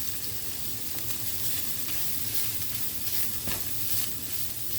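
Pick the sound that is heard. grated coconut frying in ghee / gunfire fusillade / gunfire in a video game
grated coconut frying in ghee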